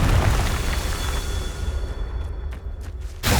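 A Confringo blasting spell explosion in the video game Hogwarts Legacy, a loud sustained rumbling blast that slowly fades, with a few light cracks near the end and a sharp new burst at the close.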